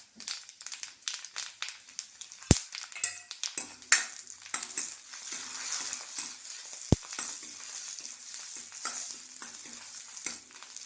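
Fenugreek seeds and dried red chillies sizzle and crackle in hot oil for a Kerala curry tempering, a steady close frying hiss broken by stirring scrapes and two sharp clinks of a utensil against the pan.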